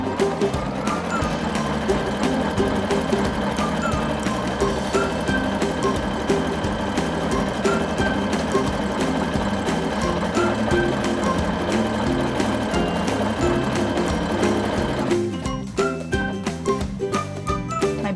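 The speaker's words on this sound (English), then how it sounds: "my machine's automatically going to lock in my stitch, stitch the buttonhole, then it will lock in again and stop when it's complete." A home sewing machine stitches a one-step buttonhole, running a steady, rapid mechanical rhythm close up for most of the span before the pace shifts and slows near the end as it locks the stitch.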